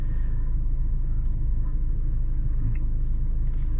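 A BMW M235i xDrive Gran Coupe with all-wheel drive cruises along, its interior filled with a steady low engine and road rumble at an even level, with no talking.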